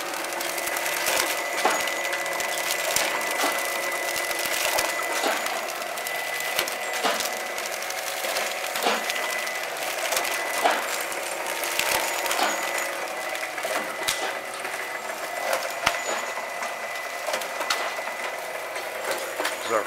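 A General Packaging System GSP-45 flow wrapper runs film samples, a fast continuous mechanical clatter with rhythmic ticking and whirring close by, steady throughout.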